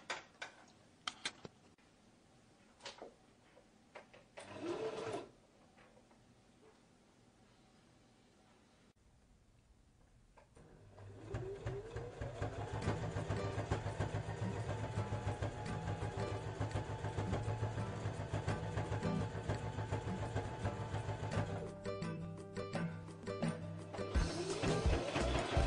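After a few clicks and brief whirs, a sewing machine stitching a jacket runs continuously with a rapid mechanical whirring hum and rhythmic stitching chatter.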